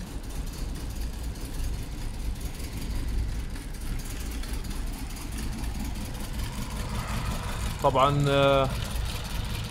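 A 2006 Hyundai Sonata 2.4L engine idles with a misfire from no signal on ignition coil 2, making a steady, close rumble; someone speaks briefly near the end.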